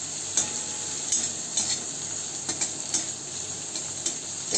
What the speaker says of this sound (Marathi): तेल तापलं की त्यामध्ये आपण बोंबील टाकून देऊ आणि तर बोंबील आपल्याला छान परतून घ्यायचेत